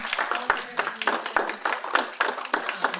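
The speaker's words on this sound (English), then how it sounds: "we give everybody a big round of applause today" Workshop audience applauding at the close of a small business law session, a dense patter of many hands with rhythmic bursts, fairly near and moderately loud, with no talking over it.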